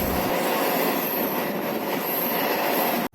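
A Nellore to Sullurpeta MEMU passenger train runs with a loud, continuous rumble and rail roar, cutting off abruptly at the end.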